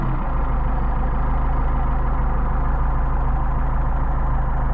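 A car engine fitted with Solex 44PHH carburetors idles steadily, a close, even low rumble that holds without change and has no voices over it.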